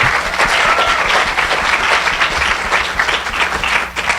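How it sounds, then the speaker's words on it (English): Enthusiastic audience clapping fills a room for an honored person at a community event, a thick, continuous wash of many hands applauding loudly and evenly before fading slightly at the very end. "So clap it up for her, please."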